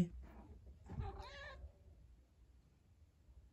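A cat meows once, fairly clearly and close by, in an otherwise quiet room with low background hum.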